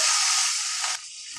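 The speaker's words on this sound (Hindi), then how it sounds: "अब इसमें डालेंगे लहसुन अदरक का पेस्ट ये दो टीस्पून हम डाल रहे हैं इसको थोड़ा सा चलाएंगे" Ginger garlic paste fries and is stirred in a hot pan, giving a loud, steady hiss that drops abruptly to a softer sizzle after about a second.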